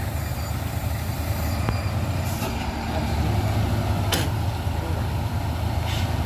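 A loaded trailer truck strains on an uphill climb, its engine growling in a low continuous rumble with occasional sharp hisses and clanks, as if failing to make the grade.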